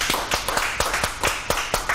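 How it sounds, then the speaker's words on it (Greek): A crowd applauds the teen section of the Petroto cultural association, Agios Georgios, at a Greek cultural event. The clapping is fast, dense and steady, close and fairly loud throughout, with no voices over it. "θέλω μεγάλο χειροκρότημα να το ολοκληρώσω, το εφηβικό τμήμα του Πολιτιστικού Συλλόγου Πετρωτού Άγιος Γεώργιο"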